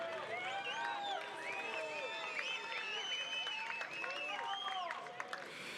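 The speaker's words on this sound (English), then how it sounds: "Big round of applause for Clisson." Crowd applause for a Brazilian bronze medalist at a para surfing world championship finals ceremony, steady clapping and cheering held throughout, with an announcer's voice and bright tonal whistles riding over it.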